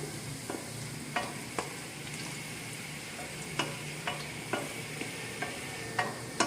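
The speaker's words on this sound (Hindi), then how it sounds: "ये प्याज ब्राउन होना शुरू हो गई है" Onions browning in a pan for palak gosht give a steady close sizzle, with regular clicks and scrapes of a stirring spoon every second or so.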